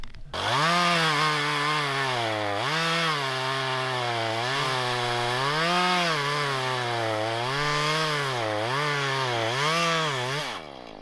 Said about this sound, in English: What a blessing Randy came by with the chainsaw and cracked all that stuff up for us, eh?